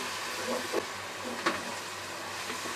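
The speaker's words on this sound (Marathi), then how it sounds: "आता यामध्ये आपण आलं लसूण मिरचीची पेस्ट घालूया ही सुद्धा आपल्याला परतून घ्यायची आहे" Ginger, garlic and chili paste sizzles steadily in a hot pan after softened tomatoes for Mumbai-style tawa pulao, a continuous soft frying hiss broken by a few faint spoon taps and scrapes, with no talking.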